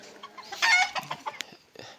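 Hens cluck in busy, overlapping bursts, with one louder squawking stretch partway through and softer chatter continuing around it.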